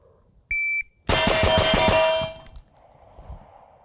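A shot-timer beep sounds, then a rapid, loud string of pistol shots from an STI DVC Limited rings out close by, their echo fading into quiet.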